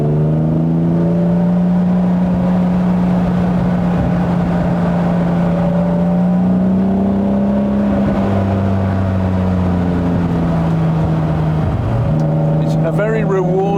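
A 1960s Aston Martin DB4 engine drones and revs steadily from inside the cabin, the pitch climbing and dropping through gear changes with heel-and-toe double-declutching, with someone talking over it.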